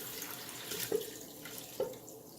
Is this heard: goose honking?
no